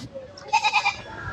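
A few quick goat bleats in a row, fairly close and moderately loud, with faint background noise and no talking.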